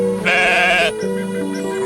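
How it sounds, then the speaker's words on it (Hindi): A sturdy black goat with long horns, grazing in a jungle in an animated Hindi moral story, gives a loud, wavering bleat, followed by a second, softer, quavering call with no talk over it. "एक काले रंग का लंबे सींगों वाला हट्टा कट्टा बकरा जंगल में आकर चरने लगता है"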